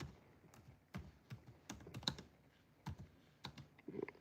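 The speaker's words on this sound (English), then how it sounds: "Just like how I'm typing." Quiet, irregular tapping of fingers on a computer keyboard, with bursts of keystrokes and short pauses between them.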